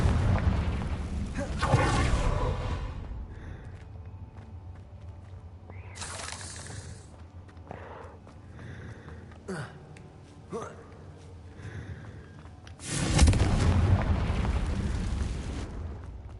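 Confringo spells burst in Hogwarts Legacy, with a loud fiery explosion early on, smaller magical pops and whooshes in the middle, and another big roaring blast near the end, set against game background sound.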